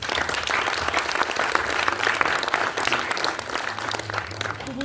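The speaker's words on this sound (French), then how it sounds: "Bravo, on l'applaudit." Audience applause at a stage show in Ambert, dense and sustained clapping from a crowd filling the room, steady and loud for the whole stretch with no voices.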